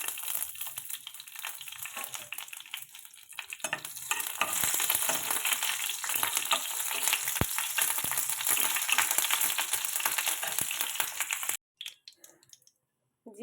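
Four dried red chillies, radhuni seeds and a bay leaf sizzling in hot oil for a vegetable khichuri, a steady crackling hiss that grows louder partway through and cuts off abruptly near the end.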